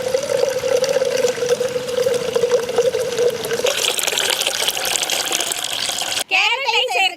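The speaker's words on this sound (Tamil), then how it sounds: "இப்ப பாலை மூடி கழட்டி ஊத்திக்கலாங்க." Milk poured from a can into a vessel in a village kitchen, a steady gushing, trickling stream that runs continuously for several seconds, then stops abruptly before a brief voice.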